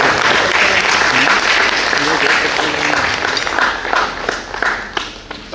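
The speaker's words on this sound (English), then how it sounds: "Can we give an applause?" Audience applause for journalists receiving awards at a diaspora event, loud sustained clapping from a large room that gradually thins toward the end, with voices underneath.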